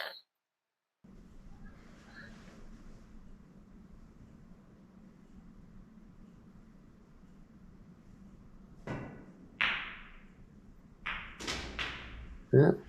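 Quiet snooker table practice: a long near-silent stretch, then a few sharp clicks of balls colliding as a cannon is played onto a red, followed by a couple more knocks near the end.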